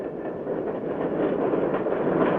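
A fast freight train running from Kansas City to Chicago rumbles past steadily, a dense continuous roar of rolling freight cars heard at moderate distance.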